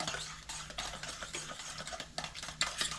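A spoon stirs an egg skillet mixture seasoned with salt and pepper, making a quick run of rhythmic scraping and swishing strokes against the pan, close and fairly quiet, with no voices.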